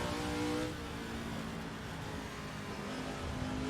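A race car accelerates up through the gears on a circuit, its engine a steady close drone that holds level for nearly four seconds, with a slight dip early on as it shifts.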